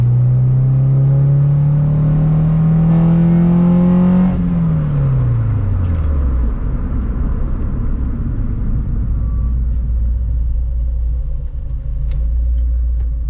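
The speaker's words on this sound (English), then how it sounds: "Even when you go into VTEC, you can feel it coming alive, and that it wants to rev." A Honda Civic with a B20 VTEC engine revs hard under acceleration, the loud droning pitch climbing steadily, then dropping sharply on a shift before settling into a deep rumbling cruise, heard from inside the car.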